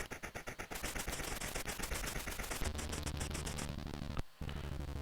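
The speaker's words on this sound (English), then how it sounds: "Enemy fighter attack in front, so here we go. Just got to shoot them down." Rapid machine-gun fire bursts from the C64 game The Train as enemy fighters are shot at, a harsh buzzing chip-sound rattle that changes texture partway through and drops out briefly near the end.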